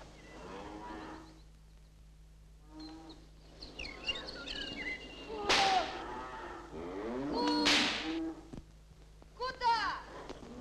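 Cattle moo repeatedly, some calls long and loud, with a sharp crack and faint birdsong in the background.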